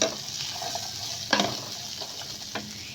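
Vegetables sizzle together in a pan over medium heat for fried rice, a steady close crackle with two sharp scrapes of a utensil stirring through them.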